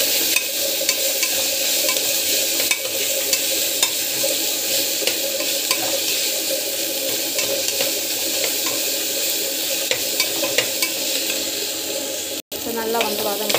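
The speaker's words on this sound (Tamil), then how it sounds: "டொமேட்டோ வந்து நல்லா வந்து அரைச்சி வச்சுருக்கேன். ஸோ அது வந்து போட்டுக்கலாம்." Ground tomato paste sautés in a pan with a continuous, fairly loud sizzle and frequent stirring scrapes, briefly cutting out near the end.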